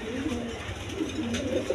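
A pair of pigeons offered for sale coo softly and repeatedly in low, rolling phrases against a quiet background hum, close by.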